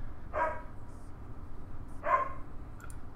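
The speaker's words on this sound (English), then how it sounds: "My dog is going ape crazy right now." A dog indoors gives two separate barks about two seconds apart, moderately close but fairly quiet, with a calm background between them.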